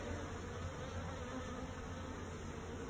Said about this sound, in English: They're still quite a bit of bees.